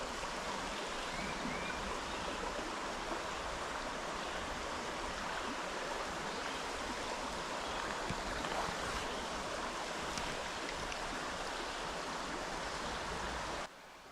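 A small trout stream rushes steadily and close by as a dense, unbroken wash of water that cuts off near the end.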